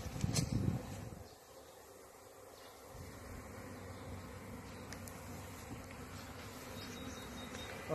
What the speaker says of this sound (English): These bees are coming strong.